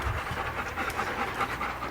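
Golden retriever puppies pant rapidly and continuously close by, a steady breathy rhythm with no talk over it.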